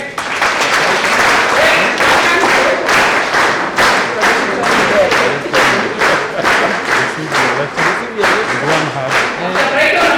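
A group claps in a steady burst of applause at a scholarship ceremony, close and lively, with individual hand claps distinct throughout.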